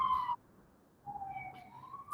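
Emergency vehicle sirens wail outside, a steady tone that drops out briefly and then returns as a rising, wavering note, heard from a distance with no talk over it.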